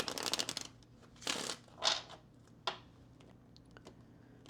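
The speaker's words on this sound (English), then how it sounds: "let's go ahead and shuffle these Kipper cards here" A deck of Kipper cards being shuffled, a few quick papery riffling bursts separated by short pauses, soft and close with no voices.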